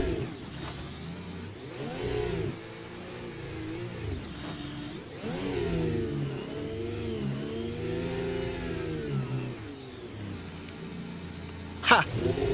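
A Formula Alpha 2024 race car engine in Assetto Corsa revs up and down repeatedly in sweeping surges, with a sharp click near the end and some faint background noise.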